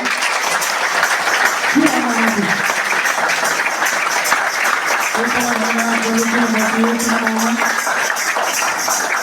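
An audience at a Nepali-speaking gathering applauds, steady continuous clapping that runs throughout while a voice speaks over it.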